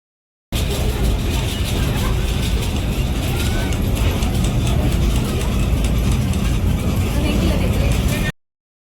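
A funicular ropeway train climbs slowly uphill toward Jivdani temple, giving a loud, continuous rumbling drone with rattling carriage noise that holds steady before cutting off abruptly.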